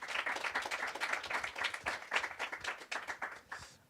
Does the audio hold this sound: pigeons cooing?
no